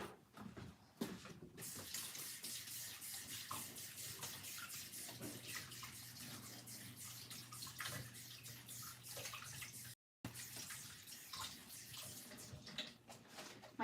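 Running tap water splashes steadily as the outside of a container is rinsed, a continuous close rushing hiss with a brief cutoff near the end before the flow resumes.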